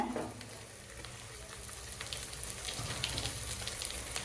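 Large green chillies and a sliced tomato fry in hot oil for white biryani, a steady close sizzle with light stirring throughout and no talking.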